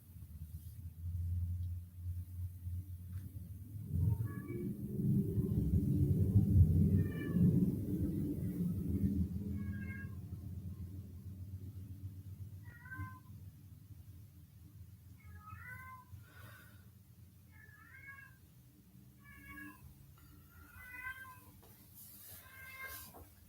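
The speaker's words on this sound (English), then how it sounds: "That's been meowing for the past 10 minutes again." A cat meows repeatedly in short, spaced calls that grow more frequent toward the end, heard faintly over a low rumbling background during a commercial break in a Missouri Tigers versus Boston College Eagles football broadcast.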